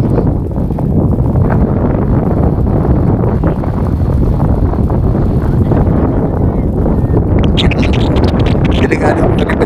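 Strong wind buffets the microphone on Tinawagan Hills in a constant, loud low rumble that fills the whole stretch, with a gusty rustle rising near the end.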